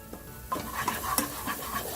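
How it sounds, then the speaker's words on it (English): A spoon scraping and stirring a spice and oil mixture in a pot on low flame for a salmon coconut curry, soft rhythmic scrapes over a faint sizzle. "Just continue stirring this till the oil starts separating from the mixture"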